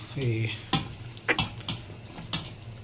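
Mutton and bones stirred in a pot over heat, with a soft sizzle, scraping and a few sharp knocks of a spoon against the metal, close up and without talking.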